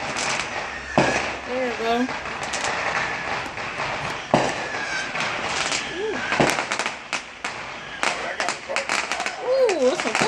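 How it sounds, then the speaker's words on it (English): Fireworks go off outdoors near a harbor, with repeated cracks and pops of varying loudness scattered throughout while people talk and react close by. "Them the real fireworks."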